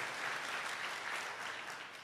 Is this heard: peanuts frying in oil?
no